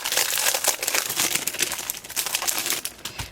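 Crinkly plastic wrapping rustles and crackles steadily close by as a Spellbinders paper pad is handled, with the dense crumpling sounds continuing throughout and no talk.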